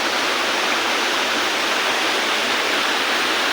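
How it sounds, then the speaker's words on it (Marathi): A hidden waterfall in the Konkan countryside roars in a steady, loud, unbroken rush of falling water, filling the whole scene with dense noise and no other sounds. "धबधब्याजवळ धबधब्याचा आवाज खूप येतोय"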